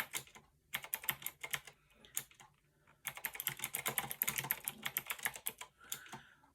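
Rapid typing on a Fineday mechanical keyboard, close and crisp, comes in bursts of clattering keystrokes separated by short pauses, with a longer, denser run in the second half.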